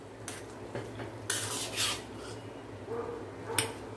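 Greens being stirred in a cooking pot for Tirunelveli kootanchoru, with faint scraping and rubbing strokes of a spoon against metal, several soft bursts spaced a second or so apart over a low hum, no talk.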